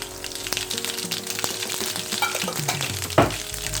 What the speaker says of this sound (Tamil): இப்போ பாருங்கள், எண்ணெய் காஞ்சிச்சு. இந்த நேரத்தில் நம்ம என்ன செய்கிறோம், இதில் கடுகை போடுறோம்